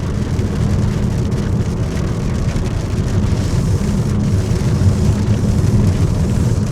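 Heavy rain drums steadily on a car driving the road from Savannakhet to Pakse in Laos, a dense, constant hiss and patter mixed with low road and engine rumble, with no voices.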